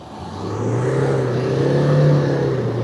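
A black Toyota Hilux climbing off-road in 4LO with the differential locked, its engine held at a steady, droning rev that rises slightly and stays close and loud throughout, with no voices.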